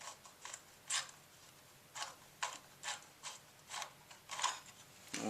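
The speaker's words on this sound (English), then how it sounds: "Okay, now we're removing this brake rod, unscrewing it, loosening it up." A bicycle brake rod is unscrewed and loosened with a tool, giving a string of small, fairly quiet mechanical clicks and ticks at an irregular pace of about one or two per second, with no talk.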